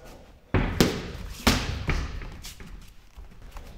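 A series of sharp thuds from spinning kicks landing on pads, a few hard impacts spaced across a few seconds, close and punchy.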